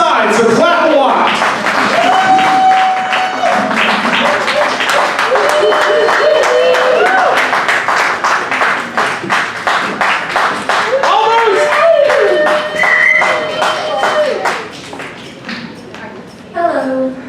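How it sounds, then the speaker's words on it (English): At a live poetry show, the audience claps loudly and steadily with crisp, rapid hand claps for many seconds, mixed with whoops and raised voices, fading toward the end. "so clap a lot"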